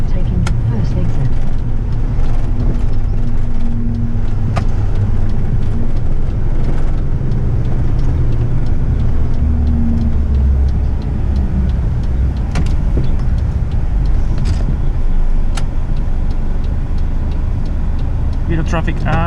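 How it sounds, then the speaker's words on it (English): Road traffic and engine rumble heard from inside the cab of an eight-wheeler twin-steer truck, a continuous loud low drone with occasional ticks and small knocks throughout. "Bit of traffic as well."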